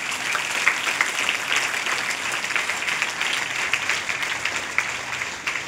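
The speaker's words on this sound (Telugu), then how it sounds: "కృతజ్ఞతగా చప్పట్లు కొట్టండి." Students at a college celebration for World Acupuncture Day clap together in a sustained, lively round of applause, loud and even throughout with scattered sharper claps on top.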